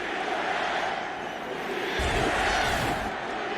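Texas Stadium crowd at a 2006 Lions at Cowboys football game, a steady distant roar with a chant rising partway through, heard alone without commentary.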